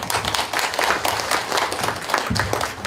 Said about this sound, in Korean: 객석에서 보통 박수가 나오면 이제 마무리 단계로 넘어가게 됩니다